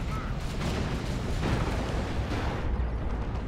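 In Dawn of War 2, a Leman Russ tank's Executioner cannon fires amid heavy explosions. The blasts come as a dense, continuous rumble of booms and bursts, loud and close, with no clear gaps between them.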